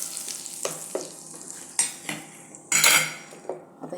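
Hot tempering of oil with mustard seeds, cumin and curry leaves being poured and stirred into a chutney, giving a short burst of sizzling with spoon and utensil scrapes and clinks around it, close and with no talking.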